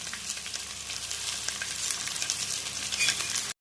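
Chopped onions and green chillies sizzle and crackle in a hot oiled pan, a steady close frying hiss with light stirring scrapes, running alone for a few seconds before cutting off abruptly.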